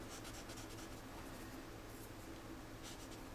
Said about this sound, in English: I'm going to make a bunch of little tiny lines to make it look like gravel